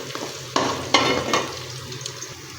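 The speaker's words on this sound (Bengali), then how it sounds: "2 থেকে 3 মিনিট ভালোভাবে ভাজা হয়ে যাবে।" Chicken brain frying in a pan: a steady sizzle with a few sharp crackling bursts and soft stirring scrapes, close and moderately loud.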